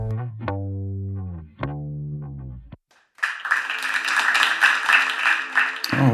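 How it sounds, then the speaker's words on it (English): A short burst of clapping from a small group breaks out abruptly after a stretch of electronic tones and a brief silence, lasting a few seconds before cutting off. "That's all I get, just this little short clap."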